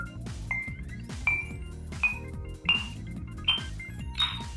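An HTC Thunderbolt phone plays volume-button tones: six short electronic pings about every two-thirds of a second, each one higher than the last, ringing clearly over a low steady background.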